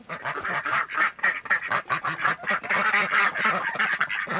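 Farm ducks and guinea fowl on a 16-acre Nashville homestead call over one another in a busy, continuous chorus of honks and quacks, close and fairly loud, with no talking.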